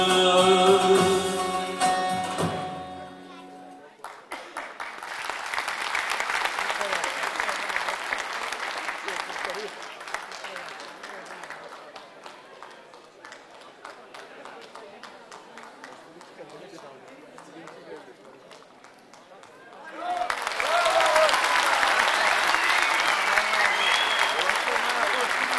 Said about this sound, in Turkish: kuvvetli alkışlarımız Ödemiş İlk Kurşun Efeler Derneği ve Efe Dayı'ya da çok teşekkür ediyoruz